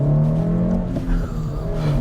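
Honda Civic Type R engine under hard acceleration, a loud, close, continuous rising drone lasting about two seconds with no talk.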